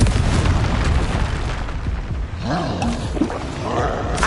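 Confringo fire curse explosion from the game Hogwarts Legacy, a dense roaring blast with rumbling low end that swells and lingers over several seconds, with tonal creature-like cries rising from the noise.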